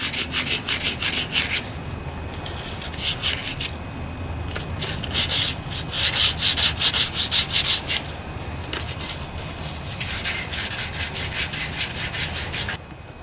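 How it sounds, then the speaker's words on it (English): Rolled sandpaper scrubbing around inside the bearing of a Briggs and Stratton starter motor, a steady close rasping abrasion in repeated strokes with brief pauses, running alone throughout. "I have some sandpaper rolled up here. Poke that down inside the bearing. Clean it out, sand it out."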